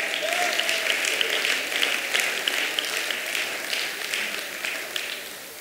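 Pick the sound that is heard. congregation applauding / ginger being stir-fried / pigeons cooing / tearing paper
congregation applauding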